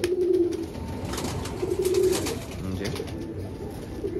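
Adult Madras pigeons cooing at close range: soft, low, repeated throaty coos in short bursts, with a brief spoken word in the background.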